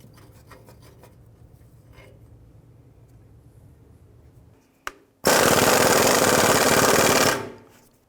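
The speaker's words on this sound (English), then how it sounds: "Using our 17mm socket and breaker bar, we're going to go ahead and loosen this manifold to pipe bolt." A 17mm socket on a breaker bar loosening an exhaust manifold-to-pipe bolt on a 2004-2009 Dodge Durango: quiet handling noises, a sharp snap, then a loud harsh two-second grinding rasp as the bolt turns.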